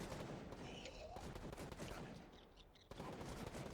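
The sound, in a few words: gunfire in a firefight in the video game Gray Zone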